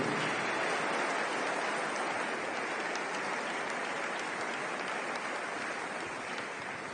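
A church congregation bursts into sustained applause after a sermon, a dense, even wash of many hands clapping that holds steady from start to finish with no voices standing out.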